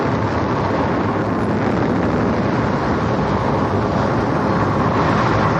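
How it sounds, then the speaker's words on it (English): Gas rushes out of an oil well during a flow test at a 1908 oil strike, a loud continuous roaring hiss that holds steady throughout with no voices. "This was how they tested the flow from a well."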